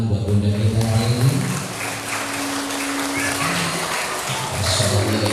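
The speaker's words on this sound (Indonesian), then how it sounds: "Tepuk tangan buat bunda kita hari ini." A crowd at a motivational seminar for parents and students claps and cheers together, the applause sustained and loud, with voices rising over it at the start and end.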